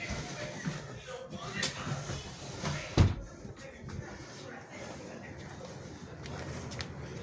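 Indoors in a rental apartment, a door is turned over and fitted back into place, giving a loud, close bump against steady background rustle while people talk.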